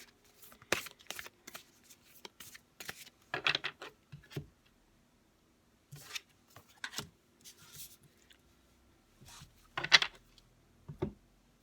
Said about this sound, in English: we're going to pull 3 cards